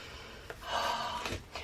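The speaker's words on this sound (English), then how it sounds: "all you keep hearing is me sniffing" A single breathy sniff, close and soft, followed by a short nasal intake of breath.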